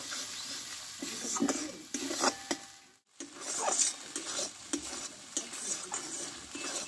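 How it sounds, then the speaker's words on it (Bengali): A spice paste is stir-fried with a spoonful of gram flour in a pan, a spatula scraping and stirring in irregular strokes over a soft sizzle, with one brief pause partway through. "এই মশলার সঙ্গে একসঙ্গে ভালোভাবে একটু কষে নেব।"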